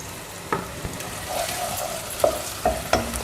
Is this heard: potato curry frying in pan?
yes